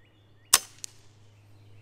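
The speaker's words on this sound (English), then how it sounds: "we're gonna have to get to the bench and shoot this" One sharp, quick crack from an Airforce Talon/Condor air rifle fired at an outdoor shooting bench, followed a moment later by a faint distant tick, over a quiet steady hum.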